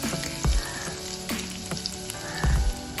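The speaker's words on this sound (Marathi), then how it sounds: "तेल गरम झालं की त्यामध्ये एक मध्यम आकाराचा चिरलेला कांदा घालायचा आहे" Chopped onion fries in hot oil in a pot, a loud, close sizzle with a few bursts of stirring clatter, no voices.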